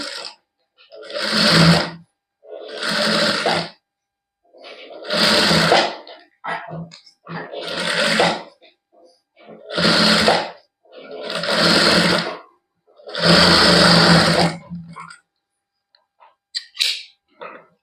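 A domestic sewing machine stitches the neckline of a kameez in bursts, seven or eight runs of rapid whirring of about one to two seconds each, separated by short pauses, loud and close with no talking.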